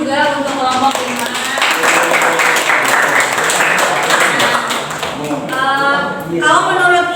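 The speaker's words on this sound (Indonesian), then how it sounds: "tepuk tangan juga untuk kelompok 5" A classroom audience claps for a student group after its presentation, a dense burst of applause that swells for a few seconds between spoken remarks.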